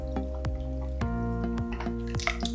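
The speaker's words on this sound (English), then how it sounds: "Add some ice, and we'll go ahead and pour our mixture in." Bloody Mary mixture is poured over ice in a glass, with drips and splashes, ice clinks and a few sharp liquid plops, close up, with no talk.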